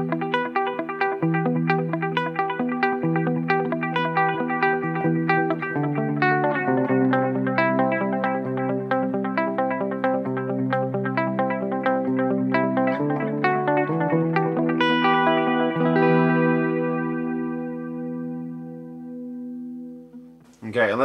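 Electric guitar through a Line 6 HX Effects delay with added modulation, a run of plucked notes with repeating echoes and a wavering chorus-like shimmer, ending on a long trailing tail that fades before a brief final sound.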